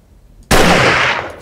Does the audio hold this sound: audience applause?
no